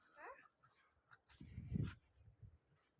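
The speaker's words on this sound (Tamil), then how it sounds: "நாய்க்குள்ள விளையாட போகிறான் நண்பர்களே" Dogs give faint, brief whimpers and a short yip at a distance, partly under quiet talking.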